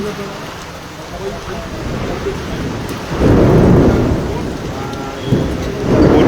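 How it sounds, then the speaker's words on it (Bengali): Heavy rain pours steadily in Rupnarayanpur with a dense roar, swelling louder in bursts, while a low rumble of thunder rolls underneath. "প্রচন্ড বৃষ্টির তেজ"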